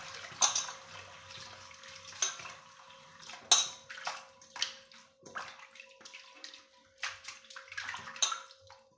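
Chigal leafy greens are washed by hand in a vessel of water. Irregular splashes and sloshes come close and clear, with soft drips and a light clatter of the container between them and no talking.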